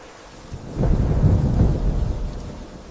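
A deep roll of thunder swells and fades over a steady wash of rain, loud and close.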